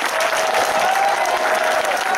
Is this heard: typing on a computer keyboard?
no